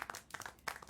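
Clapping from the video game Syberia World Before, a brief faint patter of a few quick claps with a short pause in the middle, no voices over it.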